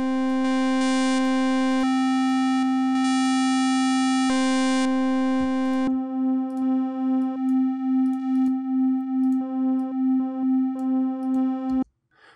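A bright buzzy Pico-8 chiptune synth tone holds steady, then turns softer and duller with a regular pulsing wobble as buzz and dampen are applied, before cutting off.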